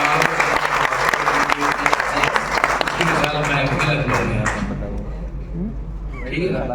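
Audience applause at a mushaira poetry gathering in Lucknow: loud, dense clapping from a close crowd for several seconds, then tapering off toward the end.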